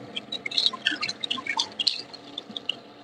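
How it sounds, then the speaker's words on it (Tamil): Water is poured into a cooking pot while sambar rice is being made. A steady splashing, dripping stream runs close by for a few seconds with no talk over it. "தண்ணி சேர்த்தாச்சு."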